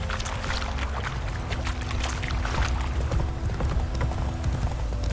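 Steady clip-clop of a horse's hooves at a brisk trot in The Witcher 3, a continuous close rhythmic patter with no talk over it.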